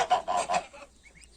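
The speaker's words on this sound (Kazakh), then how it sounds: "Қаздар. Қаздар." Farmyard geese give three loud, close honks in quick succession, then a few fainter calls trail off.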